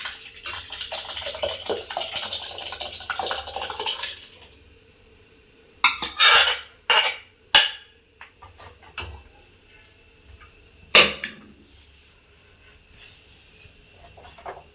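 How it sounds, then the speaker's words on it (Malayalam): Curry cooked in a pressure cooker is poured into an earthen clay pot with a few seconds of wet, sloshing pouring, followed by several distinct clanks and knocks of utensils against the vessels. "അപ്പം നമ്മുടെ കറി നമുക്ക് ഈ ചട്ടിയിലേക്ക് ഒഴിച്ച് വയ്ക്കാം."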